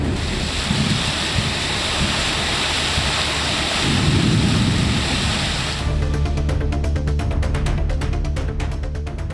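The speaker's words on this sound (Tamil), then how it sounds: "மாவட்டத்தின் பெரும்பாலான பகுதிகளிலும் கனமழை பெய்தது" Heavy rain pours steadily in a district in Tamil Nadu, a loud dense roar with deep rumbling thunder swelling in the middle, then the texture changes to a sharper, crackling downpour.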